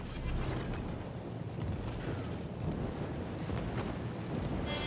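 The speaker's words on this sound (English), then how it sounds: "Gonna drop bombs on the Thunderer" Bombs dropped on a Thunderer battleship in a naval video game, heard as a dense continuous rumble of explosions and splashes, loud and sustained throughout with no speech.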